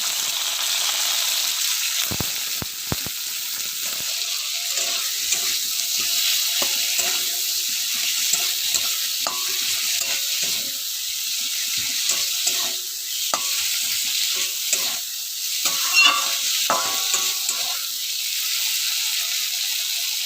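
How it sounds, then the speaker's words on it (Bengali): Tomatoes hiss and sizzle steadily in a hot pan, with occasional clicks and scrapes of stirring cutting through the continuous frying noise. "টমেটোটা একটু ভাজা হয়েছে"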